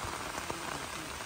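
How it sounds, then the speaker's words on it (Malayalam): Heavy rain pours steadily in a village during cast-net fishing, a dense, even hiss of drops hitting surfaces throughout, with no other sounds. "നല്ല മഴയാണ്."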